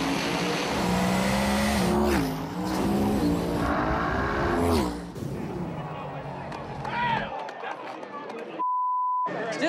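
A 1963 twin-turbo Chevy II drag car at a no-prep street race, a loud roaring engine run with pitch sweeps and sharp bursts, fading out near the end, with voices heard around it.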